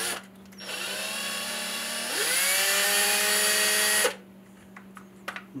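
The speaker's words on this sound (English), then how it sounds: "I got my pilot hole drilled" Power drill boring a pilot hole into the cracked tip of an Osage orange walking stick: a steady whine that rises in pitch partway as it bites, then cuts off, leaving a quieter hum and a few light knocks.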